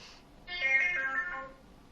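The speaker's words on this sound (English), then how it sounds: "Whoop, hold on, the phone's ringing." A telephone rings once with an electronic tone that lasts about a second, clear and fairly close in a quiet room, with no talking over it.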